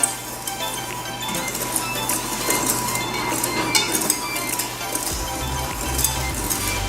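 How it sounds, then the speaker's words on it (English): Dry brownie ingredients are whisked in a bowl, with a continuous scraping, rustling stir and light metallic clinks of the whisk against the bowl over a low background hum. "let's give this a mix first with a whisk"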